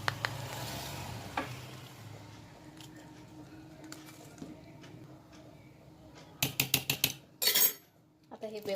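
A spoon stirs rawa cake batter mixed with baking powder and baking soda in a metal bowl, with soft scraping at first and then a run of sharp, close clinks against the bowl.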